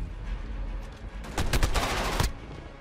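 Shotgun blasts in Call of Duty Modern Warfare multiplayer, several sharp, close reports fired in quick succession over a steady background of battle noise, loud and punchy, ending abruptly.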